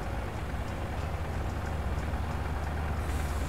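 A truck rolls past in Farming Simulator 19 with a steady low engine rumble and broadband road noise, moderately loud and continuous with no talk.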